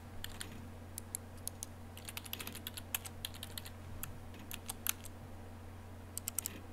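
Computer keyboard typing, irregular bursts of crisp key clicks close by, some quick runs and some isolated taps, over a steady low hum with no voices.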